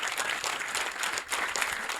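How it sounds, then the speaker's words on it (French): A conference audience applauds a speaker's guest in a steady, dense round of clapping that fills the whole stretch at moderate loudness, with no talk over it. "je tiens à ce qu'on l'applaudisse."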